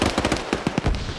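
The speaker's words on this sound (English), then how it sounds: "More grenades getting lobbed." Grenade blasts in a multiplayer military shooter match: a rapid burst of several sharp, punchy explosions and pops in quick succession, loud and close, with no voices.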